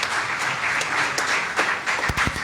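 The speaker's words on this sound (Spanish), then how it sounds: "¿Cuánto le dan un aplauso a Abril por pasar aquí al frente?" An audience in a room breaks into brief, steady applause, a dense wash of many hands clapping at moderate volume, with a few louder individual claps near the end.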